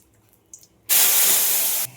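Vegetables for a Bengali fish curry (machher jhol) hit a hot pan of oil with bay leaves and fried cumin, bursting into one loud, even sizzle that holds for about a second before cutting off.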